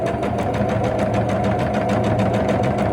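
A sewing machine stitching quilt fabric, running in a fast even mechanical rhythm of needle strokes with a steady motor hum, close and loud, with no one talking.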